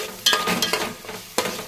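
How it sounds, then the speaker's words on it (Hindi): Chana dal stirred in a pan over high heat, giving a few sharp scraping stirs over a soft sizzle, close and short, with no talk. "1 मिनट तक इसको हम अच्छे से मिक्स कर लेंगे फास्ट आंच में।"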